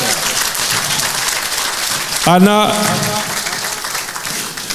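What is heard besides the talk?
audience applause at gala dinner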